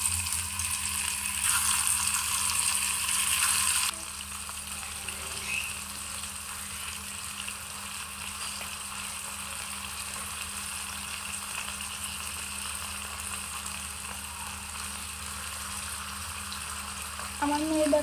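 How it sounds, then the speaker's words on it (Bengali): Meat frying in hot oil in a miniature pan for village-style doll cooking: a constant close sizzle and crackle running unbroken, with no voices over it. "তো দেখো বন্ধুরা, আমি মাংসগুলোকে ভালোভাবে ভেজে নেব।"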